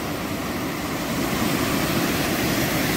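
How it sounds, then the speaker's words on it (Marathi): A waterfall on the Harishchandragad trek flows hard in night rain, making a steady broadband rush of water that grows slightly louder and never pauses. "हे पाणी किती जोरात चाललंय"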